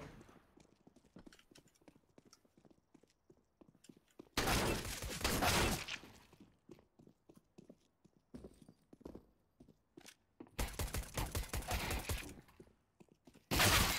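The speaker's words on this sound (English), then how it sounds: "Why did it take that many shots to kill him?" Video game gunfire comes in two long rapid bursts of loud, dense shots, separated by quieter stretches of repeated clicking and tapping.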